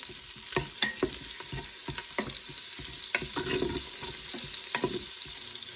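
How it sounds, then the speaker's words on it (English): Butter melts and sizzles in an Instant Pot on the saute setting, a soft steady fizz broken by several distinct clanks and scrapes of a utensil against the metal pot, with no speech. "I'm going to let this butter melt in here"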